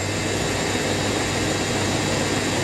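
An Indesit WIDL102 washer dryer spins at about 400 RPM, a steady broad whooshing rumble with a continuous low hum, even and unbroken throughout with no voices.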